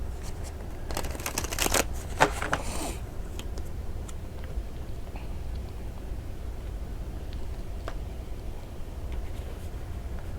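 Oracle cards being shuffled by hand in a tarot-style reading for Virgo, a few seconds of dense riffling and flicking early on, then quieter shuffling and handling of the deck.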